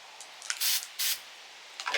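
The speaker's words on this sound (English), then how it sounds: "you hold it upside down, and you just spray it until it goes pretty clear" A Cermark laser marking spray can held upside down gives two loud, sustained hissing bursts with a few shorter spurts before and after, close by and with no talking.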